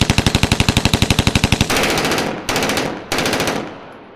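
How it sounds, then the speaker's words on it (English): Rifle gunfire rings out loud and close: a fast rattling burst of rapid shots, then several heavy sustained blasts with echoing tails, no voices. "Then, a deafening volley of gunfire."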